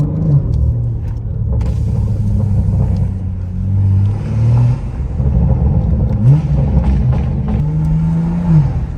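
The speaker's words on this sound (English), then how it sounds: "Now this is where you really get the tall buildings, and this is where like you really get the good sound." A half murdered out G80 BMW M3 drives through a city at night among tall buildings, its engine rumbling steadily from inside the car with a few revs rising and falling.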